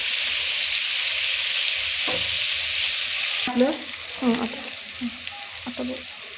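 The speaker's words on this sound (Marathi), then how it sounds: "चला, हे आता आपलं पनीर फ्राय झालेलं आहे." Paneer cubes fry in a pan over full flame for matar paneer, a steady broad sizzle for the first half, then softer crackling with scattered spatula scrapes and clinks, close and fairly loud.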